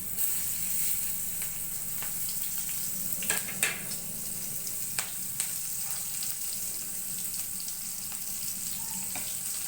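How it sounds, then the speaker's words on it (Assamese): Panch phoron spices and onion frying in hot oil, a steady close sizzle throughout with a few sharp crackles and pops around the middle; no voices. "মায়ে ইয়াত তেলত দিছে প্ৰথমতে পাঁচফোৰণ তাৰ পাছত পিঁয়াজ দি দিছে"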